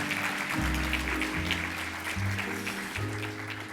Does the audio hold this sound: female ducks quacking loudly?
no